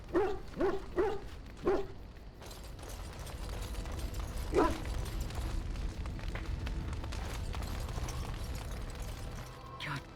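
A dog from the Dragon Age: Origins video game gives several short barks and whimpering yelps in a quick cluster at the start, then one more yelp midway over a steady low game-ambience rumble.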